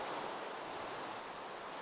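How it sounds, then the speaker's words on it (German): Steady broadband wash of flowing water from the Minecraft (MineZ) survival game, a continuous even rush with no breaks, heard alone at moderate level. "Wasser."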